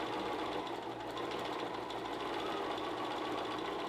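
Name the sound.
sewing machine sewing a quarter-inch seam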